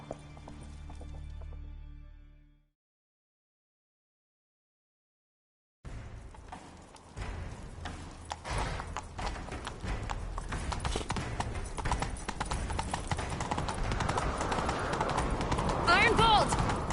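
Hooves of a video game horse gallop in a fast, continuous clip-clop after a brief pause, steady and close, building in loudness over a bed of wind and motion noise.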